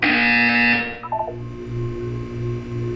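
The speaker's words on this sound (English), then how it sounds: "When you hear the buzzer, look down at the floor." A loud electronic buzzer in the video game Portal 2 sounds for about a second, then gives way to a low, repeating pulsed hum with faint tones.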